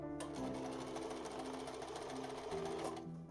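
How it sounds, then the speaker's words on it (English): A sewing machine runs steadily at close range, stitching the lining of an Elizabethan doublet sleeve, with a continuous rapid mechanical chatter and a steady hum, heard alone. "sewing the sleeve side but leaving the wrist hem open"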